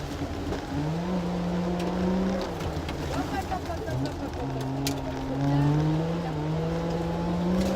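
A 1964 DKW F12 with its two-stroke engine runs with a steady, buzzing drone that rises and falls in pitch, fairly loud and close, while speech is heard over it.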